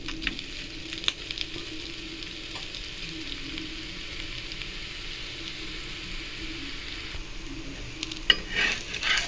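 A sweet potato and onion adai fries on a pan, giving a continuous close sizzle throughout, with a brief clatter of a utensil or pan near the end and no talking.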